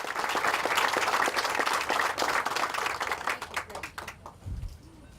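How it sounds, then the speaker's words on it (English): A crowd applauds elected officials at a library groundbreaking ceremony outdoors in Louisville, dense clapping that thins into scattered individual claps before fading, with a brief low voice near the end. "So if we could give a round of applause to these elected officials."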